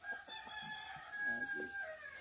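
A native chicken clucks in short, soft bursts under faint background sounds, with a distant high bird call running through.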